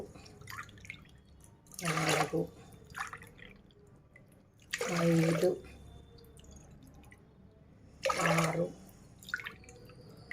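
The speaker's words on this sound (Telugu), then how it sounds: "ఇప్పుడు మనం దీంట్లో ఈ గ్లాస్లో 9 గ్లాసులు నీళ్ళు వేద్దాము" Water is poured from a glass into a pot three times in separate splashing bursts, with quiet speech and faint background noise in between.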